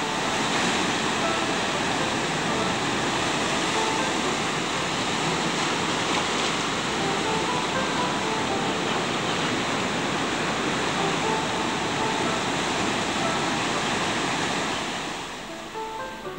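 Ocean waves at Manly cove in Sydney make a continuous dense wash of surf noise, steady and close, with wind mixed in and no distinct breaks.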